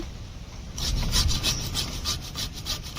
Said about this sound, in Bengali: আমি এখন আদাটা ঘষে নিচ্ছি